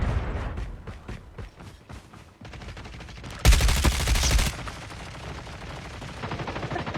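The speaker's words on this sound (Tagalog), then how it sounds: "Sa baba, mayroon nagbabarilan." Video game gunfire comes as rapid bursts of shots, with one dense, louder automatic volley in the middle and scattered, more distant shots before and after.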